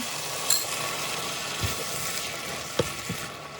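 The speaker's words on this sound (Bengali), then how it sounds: "এখন আমি সস ঢেলে দিলাম" Sauce poured over prawns and bell pepper frying in a pan sets off a steady, fairly quiet sizzle, broken by a few soft utensil knocks.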